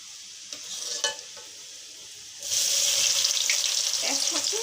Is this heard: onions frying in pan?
yes